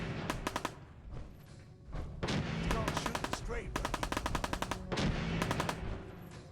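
Gunfire in the video game Fallout 4, rapid automatic bursts of shots in repeated volleys with brief gaps between, loud and close, over a busy background of game sounds.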